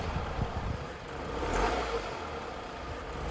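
A car engine idles steadily during an engine and transmission mount test, a low continuous rumble with a slight swell midway, no talk over it.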